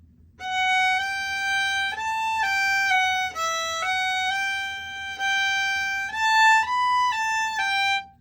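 A solo fiddle plays a bowed melodic phrase from the tune "Mississippi Sawyer," sustained notes stepping up and down, clear and close, with no voices.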